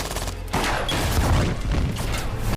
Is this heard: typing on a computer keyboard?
no